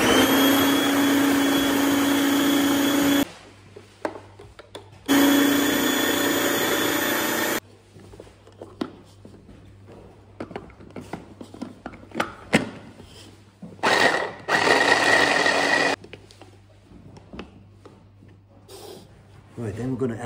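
Food processor whirring as it chops chickpeas with oil for hummus, loud steady motor bursts starting and stopping several times with quieter gaps of rattling and handling between them.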